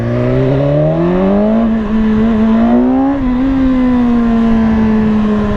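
A BMW S1000RR superbike engine hums loud and close, its pitch rising steadily as it accelerates through the revs, then holding a high, even drone.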